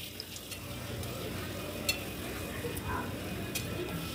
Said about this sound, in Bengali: আমি এইভাবেই লুচিগুলো ভেজে নেব